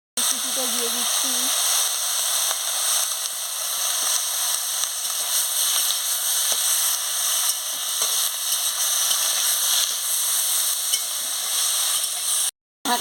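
A chopped ingredient sizzles hard in a pan while pumpkin leaf paste is cooked. The hiss is loud, dense and continuous, then stops briefly near the end before resuming.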